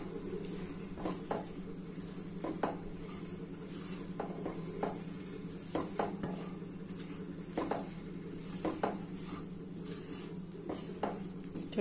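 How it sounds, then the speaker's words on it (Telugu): Chilli powder and fried gram sizzle steadily in hot oil in a pan for a flat bean curry, with a continuous crackle broken by frequent spatula scrapes and knocks against the pan. "చూడండి, ఇట్లా బాగా వేయించుకోవాలి నూనెలో."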